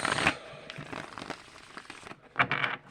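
Tarot cards being shuffled by hand give soft papery riffles and rustles, with a sharper burst at the start and another near the end, close and quiet with no talk.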